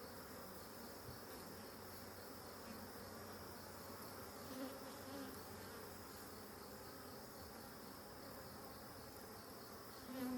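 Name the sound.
honeybees buzzing at open hive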